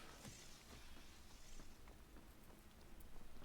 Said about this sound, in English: Now we're starting to get some rain.